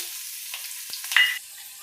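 Chopped chillies sizzling in hot oil for a tempering with mustard seeds, cumin, hing and sesame, a short crackling hiss that flares sharply near the end, close and alone.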